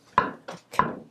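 A knife chops shiitake mushroom stems on a cutting board in three crisp, separate knocks, close and clear in a quiet kitchen.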